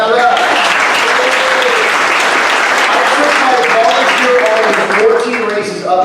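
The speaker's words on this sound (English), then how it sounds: "Yes, you should clap for that." An audience claps at Travis Allen's campaign speech for California governor in Santa Cruz, loud sustained applause from a crowd, with voices and cheers woven through it and tapering near the end.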